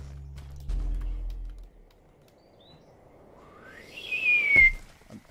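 A person whistles a rising, sliding tone that swells to a loud peak and breaks off, after a low rumbling background at the start.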